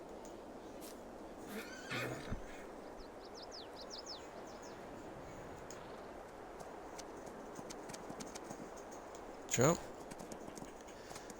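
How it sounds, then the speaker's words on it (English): In Farming Simulator 22, a horse gallops with quiet steady clip-clop hoofbeats and gives one sharp whinny near the end, while a voice speaks over a faint, noisy background. "And he's galloping and galloping and galloping."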